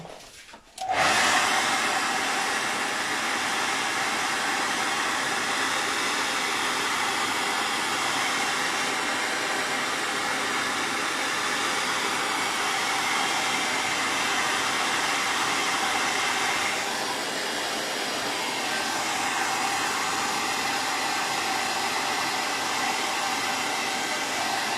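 A hair dryer blows over wet paint on a heart chakra painting, switching on abruptly and holding a loud, steady whooshing roar throughout with only slight shifts in tone, no voices.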